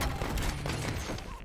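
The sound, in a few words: gunfire in the video game Warzone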